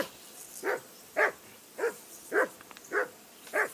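Dog barking in Kingdom Come: Deliverance II, six evenly spaced sharp barks roughly every half second to second, moderately loud over a faint background, no voices.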